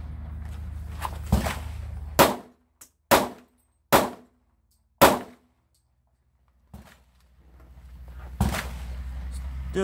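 Pistol drawn from a black leather holster and fired outdoors: four sharp, loud shots spaced about a second apart, each with a short echoing decay, plus a few fainter clanks around them.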